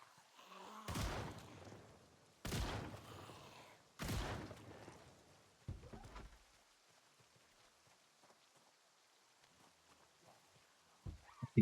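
Shotgun blasts from the zombie survival game Project Zomboid: three loud, broadband booms about 1.5 seconds apart, then a fainter fourth shot, quiet stretches of ambience and a sharp burst at the very end.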